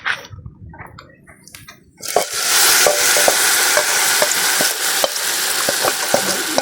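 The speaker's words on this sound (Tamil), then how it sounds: "பருப்பு தாளித்து ரெடியாக இருக்குது, அதில் கொட்டிடலாம்." Tempered lentils pour into a hot dish and erupt into a loud, steady sizzle that follows a quieter stretch of scraping and stirring, with sharp clicks of a spoon scattered through the frying hiss.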